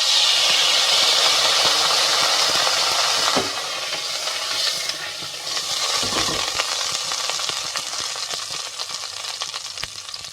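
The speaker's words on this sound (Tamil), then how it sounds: "4 டேபிள் ஸ்பூன் ஆயில் விடுறேன் நான்." Cooking oil poured into a hot pressure cooker on a stove, a loud continuous sizzle and hiss close by that dips briefly midway, then carries on steadily with no talking.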